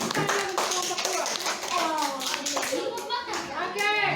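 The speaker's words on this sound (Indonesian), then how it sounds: "berikan tepuk tangan untuk kelompok 2" A classroom of children applauds a student group with steady, close clapping, mixed with children's voices calling out over the claps.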